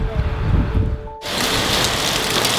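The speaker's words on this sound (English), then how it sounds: "It's raining all day. I mean, it's heavy rain." Heavy rain pours down in Porto, Portugal, a dense, steady hiss of drops on surfaces that swells louder and fuller partway through, with no talk over it.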